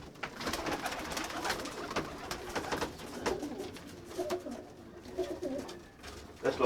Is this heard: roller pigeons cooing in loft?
yes